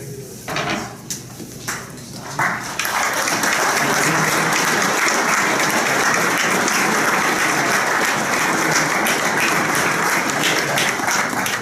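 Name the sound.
audience applause at police awards ceremony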